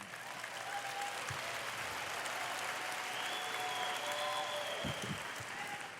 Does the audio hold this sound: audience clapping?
yes